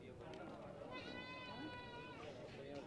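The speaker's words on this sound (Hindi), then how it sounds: "देखो जी बढ़िया बढ़िया बकरियां" Goats at a goat market bleat briefly over a steady crowd murmur, one wavering bleat standing out mid-clip amid chatter and nearby voices.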